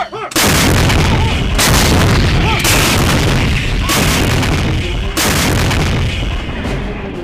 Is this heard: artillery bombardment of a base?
yes